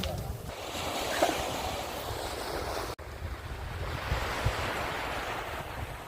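Sea waves washing onto a beach in Pattaya, a steady broadband surf rush with wind buffeting the microphone, moderately loud and continuous throughout.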